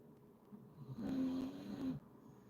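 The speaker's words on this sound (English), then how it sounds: "Now the dog's snoring." A dog snores indoors during a quiet painting session: one soft, drawn-out rasping snore, faint and close, rising out of near silence and fading away.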